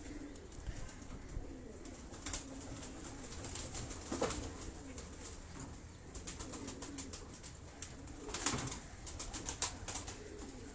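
Racing pigeons in a breeder's loft coo softly and repeatedly, overlapped by scattered clicks and rustles and brief flutters.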